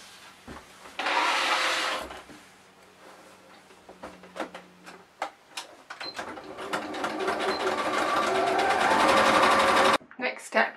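Sewing machine stitching a bag made from tea towels, back-stitching at the top; the motor runs in loud sustained bursts with short pauses between, close by, and a voice talks over parts of it.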